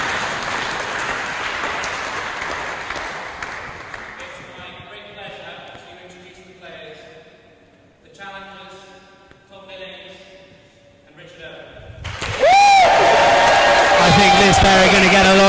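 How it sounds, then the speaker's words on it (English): At a rackets world doubles championship at The Queen's Club, a British crowd applauds loudly at first, the clapping fading to scattered sounds before a sudden loud burst near the end. "Support today from the British crowd."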